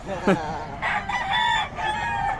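Roosters and chickens at a poultry market in Bocaue crow and cluck nearby, a short rising crow followed by overlapping calls from several birds over a busy background.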